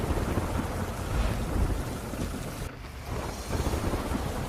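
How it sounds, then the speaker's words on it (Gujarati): Heavy monsoon rain pours down steadily in Porbandar, a loud, dense, continuous wash of noise with a deep rumbling undertone and no voices. "પોરબંદરમાં અનરાધાર વરસાદ પડ્યો છે"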